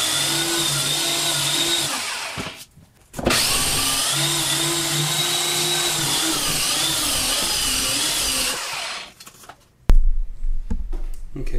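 A ProStormer variable-speed drywall sander runs at low speed with a steady whirring motor hum, stopping briefly and starting again, then winding down near the end with a loud thump.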